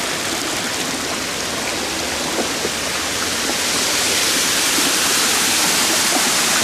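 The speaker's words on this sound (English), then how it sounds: "And there's our waterfall." An artificial waterfall pours and splashes in a steady, loud, broadband rush of falling water that holds constant, growing slightly stronger toward the end, with no voices over it.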